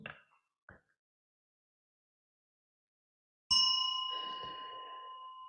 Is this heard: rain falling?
no